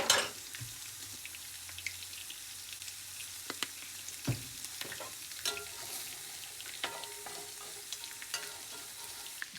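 Bacon for cheeseburgers frying in a pan, a steady soft sizzle with scattered pops and crackles and an occasional scrape or clink from the pan, close by and with no talk.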